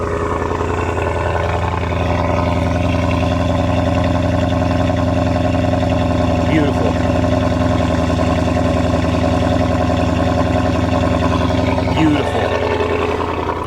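Maserati 4.7 V8, an engine also used in Ferraris, idling with a steady deep rumble and brief revs, a voice speaking over it.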